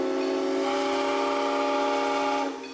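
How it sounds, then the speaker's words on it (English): A steam locomotive whistle sounds as one long, loud, steady chord-like blast that holds for over two seconds before cutting off and fading. "No other could reproduce that whistle song."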